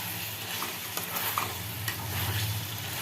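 Meat frying in oil with fenugreek gives a dense, continuous sizzle that stays fairly loud and steady, close to the pan, with faint clicks of stirring and no speech.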